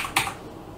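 Keystrokes on a computer keyboard while entering a command on a Windows 10 PC, a quick cluster of close, crisp clicks near the start followed by quiet room tone.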